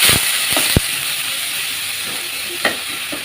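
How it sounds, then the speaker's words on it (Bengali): Chopped onion and garlic fry in a pan with a steady hiss of sizzling oil. A few sharp clicks of a spoon or spatula come close up. "এটা একটু লাল লাল করে ভাজে নিতে হবে বন্ধুরা"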